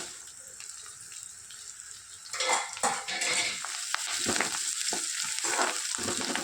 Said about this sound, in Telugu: ఇవి కొద్దిగా కలర్ చేంజ్ అయ్యేంత వరకు వేయించుకోవాలి